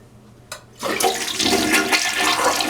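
A toilet with a replacement fill valve and reduced water flow is flushed: a short click from the handle, then a loud rushing, gurgling surge of water that keeps roaring steadily, close by and with no voices.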